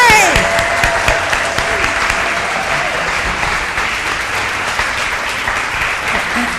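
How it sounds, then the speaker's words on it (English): Church service audience applauding students being honored, a loud sustained wave of clapping with a cheer near the start, continuing steadily throughout. "Please give these great students applause."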